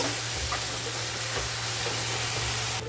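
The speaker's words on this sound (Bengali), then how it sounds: "এটাও ভালো করে কষিয়ে নেব, আদা রসুনের কাঁচা গন্ধটা যাওয়া পর্যন্ত।" Ginger garlic paste fries in a pan for a rohu fish curry, a steady close hiss and sizzle with faint stirring scrapes throughout.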